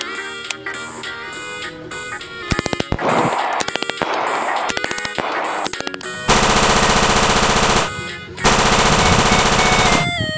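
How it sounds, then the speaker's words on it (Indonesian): A toy MP5 gun plays loud electronic shooting effects: rapid staccato bursts of synthetic machine-gun fire with beeping tones, then a sustained harsh buzzing rattle, all close and without speech. "ada tembak-tembakan MP5"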